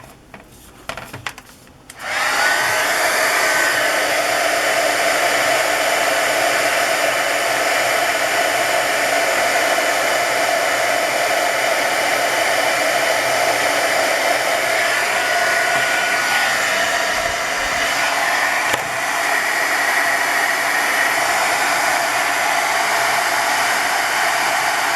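Steady, loud blowing roar of a Ranger Heated Craft Tool directing hot air onto crackle paint over napkin decoupage on a book cover, starting abruptly after a brief quiet moment and running continuously.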